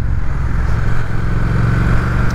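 A 2020 Triumph Speed Twin 1200 motorcycle engine pulling hard under acceleration, a loud, close, steady throaty drone with deep low-end rumble and no pauses.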